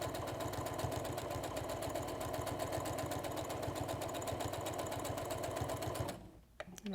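A sewing machine top-stitches a fabric headband, running a steady, rapid, close-up stitching rhythm for about six seconds before stopping abruptly, leaving brief faint handling sounds.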